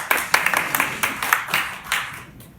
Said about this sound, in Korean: 아주 반주자 박수 한번 쳐줍시다